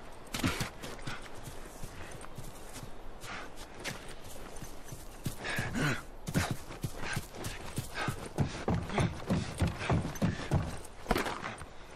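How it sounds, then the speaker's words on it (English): Horse hooves clip-clopping in The Last of Us video game, a brisk, steady rhythm of close, crisp hoof strikes growing slightly louder over time. "Back to the horses."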